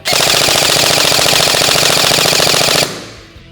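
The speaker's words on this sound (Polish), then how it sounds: "Replika strzela i przestaje." A G&G airsoft replica with a G2 gearbox fires a loud, rapid full-auto burst of evenly spaced mechanical shots. It runs steadily for nearly three seconds, then stops abruptly when the magazine empties, leaving a short fading tail.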